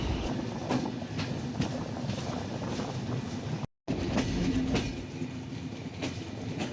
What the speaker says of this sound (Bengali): টং টং শব্দে পার্বতীপুর রেলওয়ে স্টেশনে প্রবেশ করলাম।